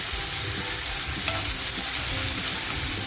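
Onions and hand-torn coriander sautéed in a pan for prawn masala, a loud, dense, unbroken sizzle with soft stirring scrapes underneath, close up and alone.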